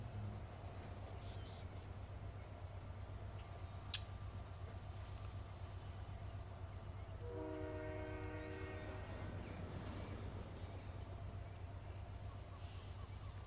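A train in the Fortnite video game rumbles steadily with a low continuous drone, and a horn-like blast sounds through the middle, alongside a brief sharp click; no one talks.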